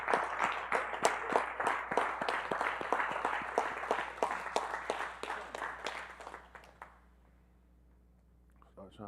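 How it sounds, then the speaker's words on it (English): A church congregation at a livestreamed worship gathering claps in a steady rhythmic beat for about seven seconds, close and distinct, while voices talk over it before the clapping stops. "Give Mr. Yahuwah a hand clap"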